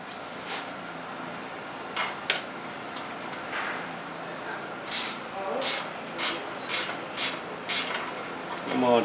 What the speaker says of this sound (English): Need to fix up my first chain adjuster. And that's going to require a wrench.